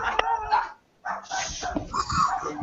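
Dogs bark in short yipping bursts, close and fairly loud, with a possible whimper, and a person talks over them.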